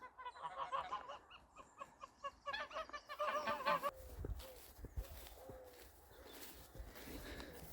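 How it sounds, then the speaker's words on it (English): Geese honk in rapid, overlapping bursts at moderate distance, followed by rustling and low thumps of movement nearby. "There's the geese."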